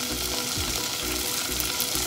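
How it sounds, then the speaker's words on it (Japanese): Bacon and tube garlic stir-frying in a pot over medium heat, a steady close sizzle and crackle throughout with no talking. "はい、これで炒めていきます。"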